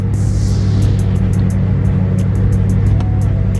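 A tuned car engine runs on a chassis dyno in a shop, a loud, steady close rumble holding throughout with sharp intermittent clicks over it.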